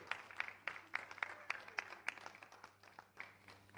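Scattered applause from a small audience greeting a female performer at a Lahore entertainment event, faint and thin, with distinct individual claps spaced irregularly over a low steady hum.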